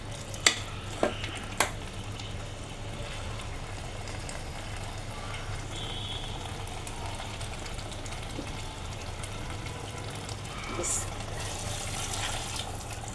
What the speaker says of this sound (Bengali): তো আমি গরম পানিটা অ্যাড করলাম।